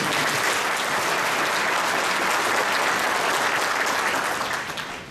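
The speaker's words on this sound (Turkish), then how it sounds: "Ona da buradan kuvvetli bir moral alkış alabilir miyim?" A crowd applauds continuously at a party congress, a dense wash of clapping that holds steady for several seconds before easing at the end.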